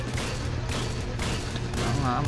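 Rapid gunfire from a firefight in the Roblox game Dead Rails, a steady run of loud shots and booms that lasts the whole stretch, with game noise underneath.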